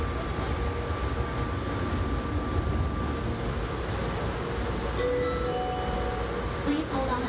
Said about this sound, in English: Please hold on. This train is stopping.